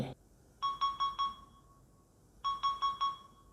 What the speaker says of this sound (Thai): ก็จะมีเสียงแจ้งเตือนแบบเมื่อกี้